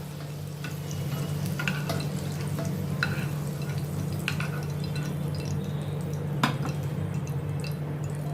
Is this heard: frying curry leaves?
yes